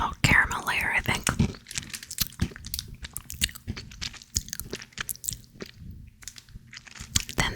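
Chocolate bar with nougat, caramel and rice puffs being chewed up close, soft crunchy bites and moist mouth sounds repeating irregularly, with quiet whispered talk throughout.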